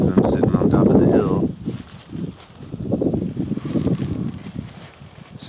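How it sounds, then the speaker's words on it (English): Wind gusts over a hilltop near Lake Texoma, rumbling and buffeting the microphone in waves, close and fairly loud. "You can probably hear the wind picking up because I'm sitting on top of the hill."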